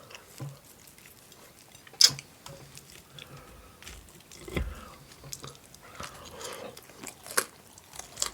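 Someone eats fried potatoes and bread up close, with soft intermittent chewing, crunching and moist mouth sounds plus a few sharper bites and clinks in a quiet room.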